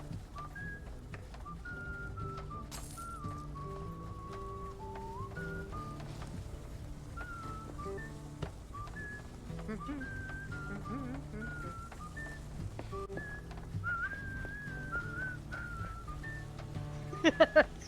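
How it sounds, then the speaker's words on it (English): A person whistles a wandering melodic tune over soft background music in a cartoon mouse detective story, steady and fairly quiet throughout. "Oh, you gotta love that whistling."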